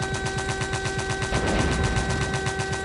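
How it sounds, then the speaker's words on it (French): Rapid bursts of heavy anti-aircraft gunfire repeat in a steady rhythm over a siren-like tone, fairly distant and continuous throughout. "Et les tirs que vous entendez, c'est des tirs de DCA."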